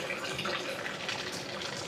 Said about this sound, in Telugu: ఇక్కడ వాటర్ వస్తున్నాయి పైనుంచి